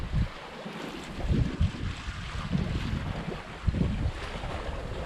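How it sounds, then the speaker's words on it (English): Sailboat on a broad reach in 10 to 13 knots of wind, with steady wind rush buffeting the microphone and waves sloshing against the hull in irregular surges, no voices. "this is peaceful sailing right here"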